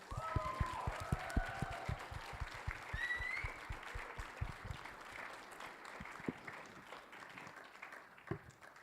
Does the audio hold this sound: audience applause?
yes